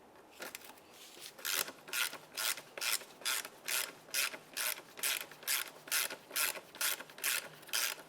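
A ratchet clicks in quick, even bursts of about a dozen strokes while loosening the transmission pan drain plug on a 1998-2002 Lincoln Navigator, close and clear with no talk.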